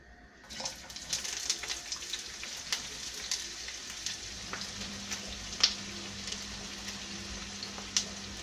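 Onion frying in hot oil for a Spanish sofrito, a steady sizzle with scattered sharp crackles and pops that carries on without talk at a moderate level.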